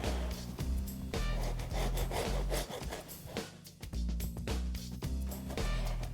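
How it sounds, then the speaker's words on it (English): A serrated knife saws through pumpkin biscotti with steady, rasping back-and-forth strokes, close and fairly loud, over a low constant background hum. "you want to use a serrated knife to do this part too, so you're not crumbling the cookie too much"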